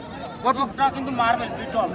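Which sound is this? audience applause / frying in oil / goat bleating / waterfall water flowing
goat bleating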